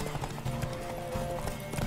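Horse hooves clip-clop at a gallop in The Witcher 3 video game, a quick steady rhythm of muffled thuds under a low drone of game music, fairly quiet with no voices.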